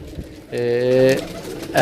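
A Farsiel pigeon gives a single loud, drawn-out coo up close, with a softer rustle before it and the start of another call at the end.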